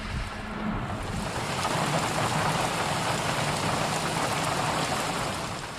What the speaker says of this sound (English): It does rain in buckets here.